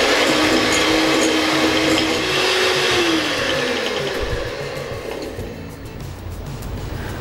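An electric mixer creams butter in a mixing bowl, a steady loud whir with a whining pitch that drops partway through and then runs on, a little quieter, with no talk.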